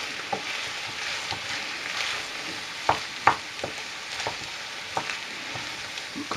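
A spoon stirs chicken fricassee with mushrooms and rice in a sauté pan, making a continuous soft sizzle with intermittent scraping clicks and knocks against the pan. The sound is close and steady, with no talk.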